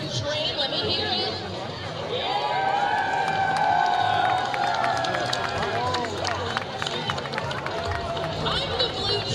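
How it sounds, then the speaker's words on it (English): A crowd cheers for its team during a train race in a ballpark, a sustained roar of many voices with whistles and shouts, loud and continuous. "can I hear you guys cheer for your train?"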